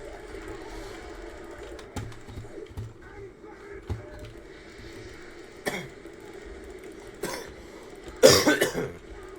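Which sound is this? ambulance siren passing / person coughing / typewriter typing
person coughing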